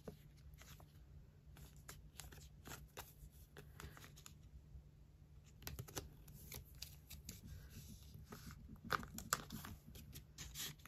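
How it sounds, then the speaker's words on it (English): Photocards being slid into and out of plastic sleeves, giving a run of soft crinkly rustles and short plastic scrapes, steady and close, with a low hum underneath. "I've been wanting to resleeve my photo cards."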